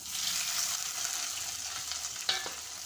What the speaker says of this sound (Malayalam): ഇതിലേക്ക് തക്കാളി ഇട്ട് വഴറ്റിയെടുക്കാം